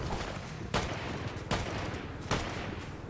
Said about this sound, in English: They're shooting at Ozzy. Oh, I'm getting shot.